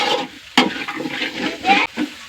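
Meat sizzles and is stirred in a hot pan, with a steady frying hiss broken by a few sharp scraping strokes, close and fairly loud, with no voices.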